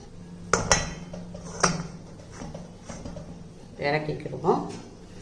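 A baked cake is turned out onto an inverted plate, with clattering clinks of plate and metal vessel in a few sharp knocks and scrapes, close by, over a quiet background, with a voice talking at times.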